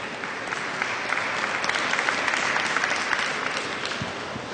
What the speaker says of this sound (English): I think everybody here in New York deserves a round of applause for the what they've put forth towards this.